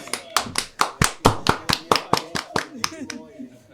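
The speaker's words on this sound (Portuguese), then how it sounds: "Palmas." A small group claps in a clear, fairly regular rhythm of about a dozen sharp, close hand claps that slow and fade out toward the end.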